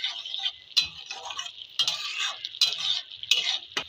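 Turmeric powder is stirred into hot oil in a pan, with a utensil scraping and clicking against the metal in irregular strokes over a soft sizzle, close up and with no talk.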